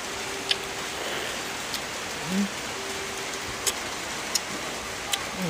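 Steady rain hisses evenly across the whole stretch, with a few sharp drips or taps standing out here and there and no voices heard.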